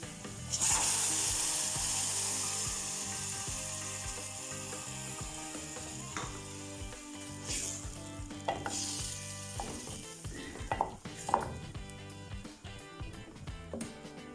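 Tomato puree sizzles in a pan with golden-brown fried onions while a spoon scrapes and stirs. A loud, hissing sizzle at the start eases into a quieter bubbling fry, broken by intermittent clicking and scraping taps.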